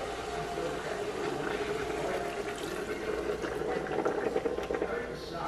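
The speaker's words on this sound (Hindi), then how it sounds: "मैं इसको बस इसके अंदर मैं ऐड करूँ थोड़ा सा पानी" Water added to spices in a cooking pan in an Indian kitchen while making pumpkin subzi: a soft bubbling, sizzling wash of liquid hitting the hot masala, steady and close, swelling slightly toward the end.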